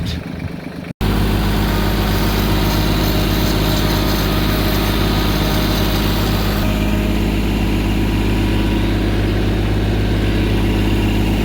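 A bucket machine's engine drones loudly and steadily while digging and raking the dirt of a horse arena, after a brief clunk at the start, with a constant low rumble and no talking.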